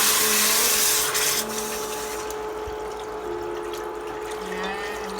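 Water is poured into a cooking pot of sinigang na bangus sa miso with kamias, a loud rushing gush at first that settles into a lower steady bubbling hiss.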